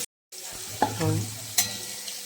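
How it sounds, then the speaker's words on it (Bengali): Potatoes dropped into a hot frying pan, a sudden close sizzle with stirring clatter and a brief scrape, over a quiet kitchen background. "আলু দিয়ে দিলাম আলুটা"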